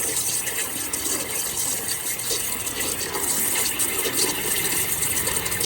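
Water gushes continuously out of a clogged outdoor drain hose, a loud, close, steady splashing rush with no pauses and no voices.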